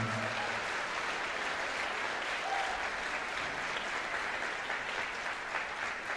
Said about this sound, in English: why don't we give the students another round of applause for all the hard work they did today